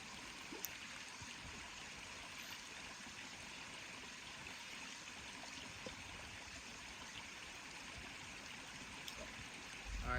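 A mountain stream on a backpacking trail runs in a steady, even rush of flowing water. It holds constant for the whole stretch with no voices.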